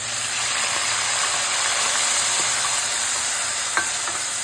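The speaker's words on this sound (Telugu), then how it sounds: "మనం రుబ్బి పెట్టుకున్న ఉల్లిపాయ, అల్లం వెల్లుల్లి ముద్ద ఉంది కదా, ఇది వేసుకుని వేయించుకోవాలి" Ground onion and ginger-garlic paste frying in a pan after cumin seeds, for a baby potato and green peas curry; a dense, even, loud sizzle holds close throughout, with one small clink near the end.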